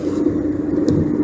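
A low-mileage used Hyundai car is driving, with a steady low engine and road drone heard from inside the cabin throughout.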